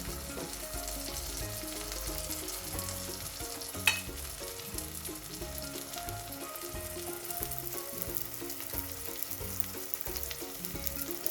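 Tamarind and spice powder sizzle steadily in a pan for dried fish curry, a continuous loud frying hiss with stirring and one sharp clink near the start, no talking.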